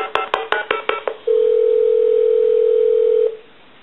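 A Spirit of St Louis telephone on speakerphone gives a string of short dialing pulses, then a steady dial tone that holds for about two seconds before cutting off.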